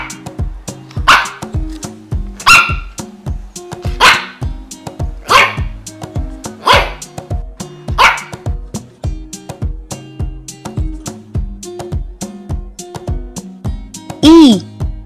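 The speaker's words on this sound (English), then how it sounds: "And the sound of the dog is" A dog barks in a steady series of sharp, loud barks spaced about a second or so apart, set over a bouncy musical backing with a short rising yip near the end.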